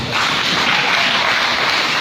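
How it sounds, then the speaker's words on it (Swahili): A church congregation applauds together in a dense, steady wash of clapping that holds for about two seconds, loud and close with no break. "Bwana Yesu makofi."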